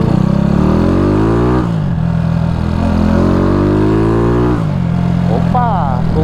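A Honda CG 94 motorcycle with a 240cc engine accelerates on a highway, its loud, close engine note climbing steadily in pitch through each gear, then dropping sharply at two gear shifts before rising again.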